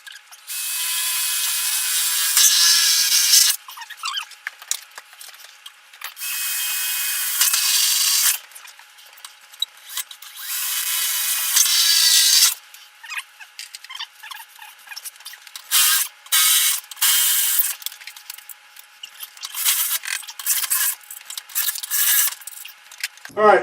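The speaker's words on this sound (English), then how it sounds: "we're going to try to put some more screws into it, which is going to mean drilling some holes through that track" A drill works on a barn-board sliding door's metal track, giving repeated loud high-pitched whirring bursts of a few seconds each, broken by short pauses and clicks, with no talk over it.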